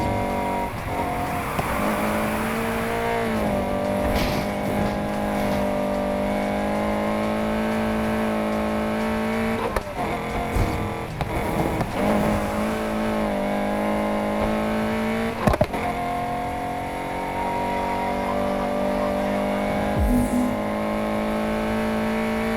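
A car in Need for Speed Heat races uphill at speed, its engine holding a strained, steady high-revving tone for a long stretch, with brief dips, shifts and a few knocks along the way.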